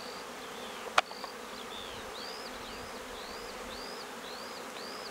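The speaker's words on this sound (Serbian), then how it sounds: "Rekao bih da pčele rade punom parom." Honeybees forage across a sunflower field, their faint, steady buzzing filling the air, with a short sharp click near the start and a run of soft, repeated high chirps.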